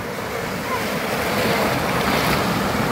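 Strong ocean waves crashing on a rocky beach shore, a loud continuous roar of surf that swells and builds, mixed with gusty wind buffeting the microphone.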